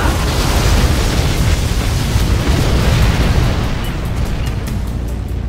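A particle cannon blast in C&C Generals Zero Hour roars as a loud, sustained broadband explosion that rumbles heavily and slowly fades over several seconds, with no voices.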